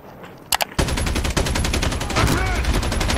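Sniper and automatic gunfire in the Call of Duty Mobile battle royale, a couple of sharp cracks followed by a dense, loud stream of rapid shots that continues to the end.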